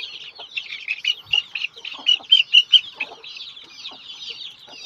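Native chickens on a small farm, several clucking and chirping close by in quick uneven bursts, with louder calls clustered toward the middle.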